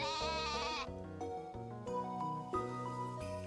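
A goat in Story of Seasons: A Wonderful Life bleats among chiming game music, the calls clear and up close.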